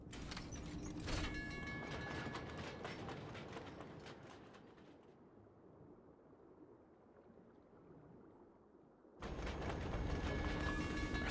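A subway train in F.I.S.T. rumbles steadily during the ride, with louder rattling passages at the start and end and a quieter low rumble through the middle.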